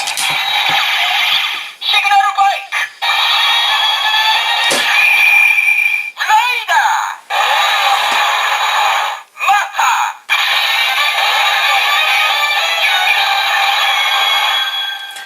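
Tinny electronic sound effects from a Kamen Rider Drive toy transformation belt speaker, a run of synthesized chimes, tones and voice-like bursts with brief gaps between them.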